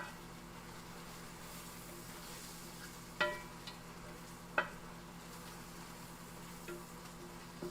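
Vegetables sauté in a pan for crawfish étouffée, a faint, steady sizzle with a couple of sharp utensil clinks against the pan.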